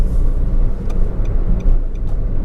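A 2021 Nissan March 1.2 automatic eco car drives into a corner, heard from inside the cabin as a steady, fairly loud low road-and-engine rumble with faint light knocks.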